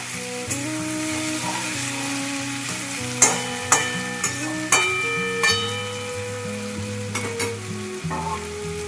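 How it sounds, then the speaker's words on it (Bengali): Fish roe and chopped tomato frying and being stirred in a pan, a soft continuous sizzle punctuated by several sharp spoon clinks, set under steady background music. "ছোট একটা টমেটো আমি কেটে নিয়েছি এরকম করে। এবার এইটাকে দিয়ে আমি আরো কিছুক্ষণ ভেজে নেব।"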